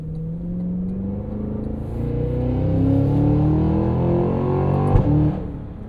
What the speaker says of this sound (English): They can just be a big, clumsy V8 thing.